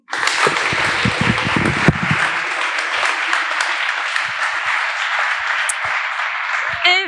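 Sustained audience applause fills a Paris startup demo day celebrating a part-time batch, a dense steady wash of clapping from a large crowd that holds evenly for several seconds with some close, sharper claps near the start.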